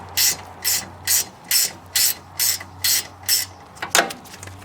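A ratchet clicks in eight quick, even bursts while removing radiator bolts on a 2006 Nissan Xterra, loud and close against a low steady hum, followed by a few looser metallic rattles.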